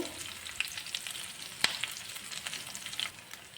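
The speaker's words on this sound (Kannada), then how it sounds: "ಇದನ್ನೆಲ್ಲ ಹಾಕ್ಕೊಂಡು ಸ್ವಲ್ಪ ಫ್ರೈ ಮಾಡ್ಕೊಳ್ತಾ ಇದ್ದೀನಿ" Mustard seeds, cumin, ginger, green chillies and curry leaves fry in hot oil for sabakki upma, giving a soft steady sizzle with sharp crackling pops from the seeds, close and fairly quiet.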